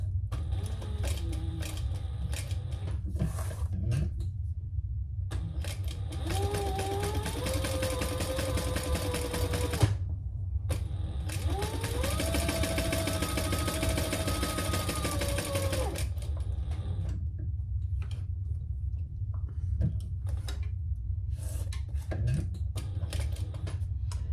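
A sewing machine stitches a purple crossbody bag in steady bursts, with a pause and short stops between runs of continuous mechanical whirring and a rising-falling motor whine.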